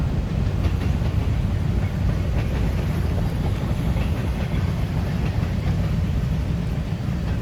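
Freight train of rusty, graffiti-covered hopper cars rolling past at Daggett, a steady loud rumble with rhythmic wheel clatter throughout, close by and continuous with no voices.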